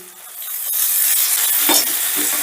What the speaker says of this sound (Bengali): এবার সমস্তটা আমি গ্যাসের আঁচটা মিডিয়ামে রেখে হালকা করে ভেজে নিচ্ছি